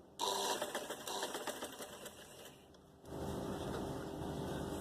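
A sewing machine stitches a fabric cord (dori) for decorative trim, running in a steady rattling burst, pausing briefly, then whirring on again at a low, close level with no voices.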